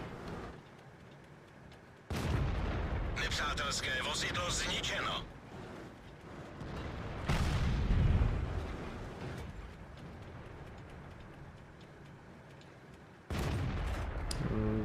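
Tank cannon shots ring out in a tank video game, loud blasts that recur through the clip between stretches of quieter rumble, with a commentator talking over the action.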